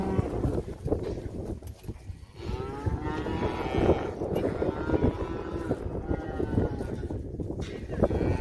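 Cattle on a ranch low and moo repeatedly, several drawn-out calls overlapping with shuffling and movement noise close by, fairly loud throughout.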